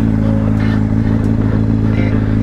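A Honda CBR 600 RR sport motorcycle being ridden, its engine running steadily and loud throughout with a constant low drone, wind and faint clatter over it, no talk.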